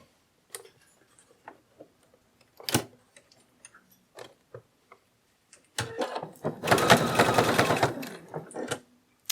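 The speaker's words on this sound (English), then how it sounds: "I'm going to take this and I'm going to sew around it, and I'm going to leave a bit here to turn it right side out" A sewing machine stitches around a plush dragon pattern piece. Scattered handling taps and a short thud come first, then a close, steady mechanical whir of rapid stitching over the last few seconds.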